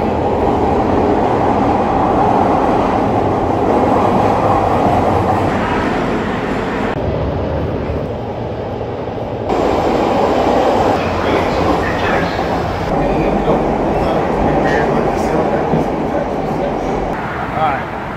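Chicago Blue Line subway train running steadily with a loud, continuous rumble and rail noise throughout, rising and falling slightly in intensity, with faint voices mixed in under the din.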